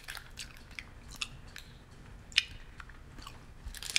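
Crisp, light rice crackers being bitten and chewed up close, with irregular crunchy bites and three sharper snaps standing out among softer munching, no talking.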